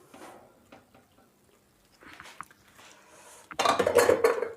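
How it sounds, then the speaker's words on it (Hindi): Metal utensils clink and scrape faintly in a pot of cooked vegetables, then a louder rush of clattering and rustling comes as macaroni is tipped in, close by, with no one talking. "इन मैक्रोनीज को हम इन सब्जियों के अंदर डालेंगे"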